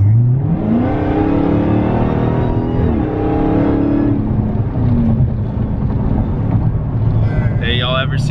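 Widebody Dodge Hellcat accelerating hard, its engine loud and close with a rising pitch that climbs through gear changes, while occupants talk over the roar.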